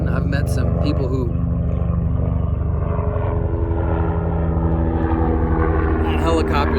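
A helicopter passes overhead, its steady rotor and engine drone sustained and fairly loud throughout, with a person talking over it.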